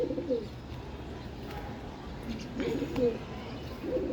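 Pigeons kept at a home coo repeatedly in soft, low bursts close by, with a steady murmur of background noise between the calls.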